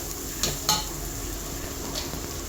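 Grated coconut and spices being stirred and fried in a pan for biryani, a steady sizzle with a couple of sharp metallic scrapes and clinks of a spoon against the pan early on, without talk.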